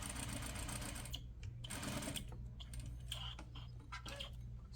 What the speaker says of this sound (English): I will again stitch, back stitch, and then I'll stitch all the way to the end and back stitch again